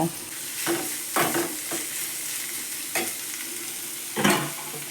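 Chopped onion frying in a pan of coconut oil and ghee, a steady close sizzle broken by several louder bursts of stirring scrapes at irregular intervals.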